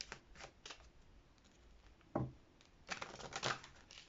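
A deck of tarot cards being cut and handled, with soft papery riffles and taps, several quiet bursts spread over a few seconds, near and close to the ear.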